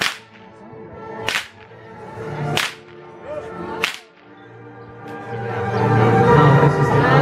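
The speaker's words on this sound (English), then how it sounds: "Whip's just clearing the horse's head." Three sharp whip cracks ring out over a horse's head in a rural procession, evenly spaced and loud, followed by a swelling murmur of crowd and outdoor noise.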